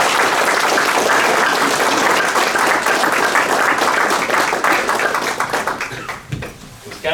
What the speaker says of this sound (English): So I want to first applaud you